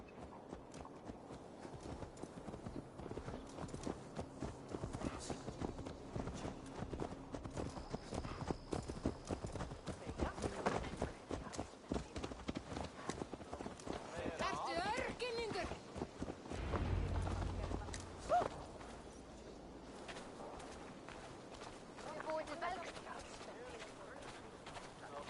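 Horse hooves clip-clop steadily in Assassin's Creed Valhalla, a continuous rhythmic trot mixed with game ambience and character voices talking over it.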